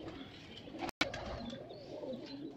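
Pigeons coo softly and continuously with faint chirps, apparently a fancy breed kept by a Mianwali pigeon fancier; a brief dropout interrupts the sound near the one-second mark.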